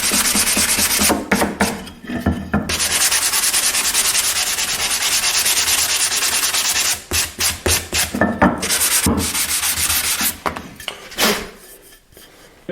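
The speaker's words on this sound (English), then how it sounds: "if you take a piece of sandpaper" Sandpaper rubbed by hand across hardwood over cured super glue, a loud steady scratchy rasp running almost continuously, then broken into quick separate strokes near the end.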